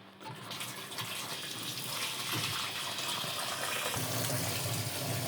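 Water gushes steadily into a washing machine as soap is added for a laundry load, a continuous close hiss and splash with no talking.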